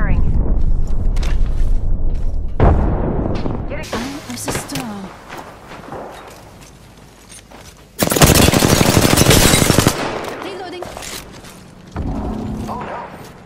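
Gunfire in the Apex Legends video game, with loud automatic bursts and sharp shots coming in waves, a dense barrage near the end, along with explosive thumps and game sounds.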